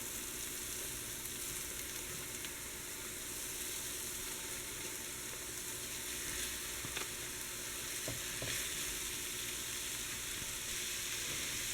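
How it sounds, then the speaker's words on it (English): Ground beef sizzles steadily in a pan, a continuous close hiss with faint stirring scrapes and no talking. "now I'm going to add the ground beef"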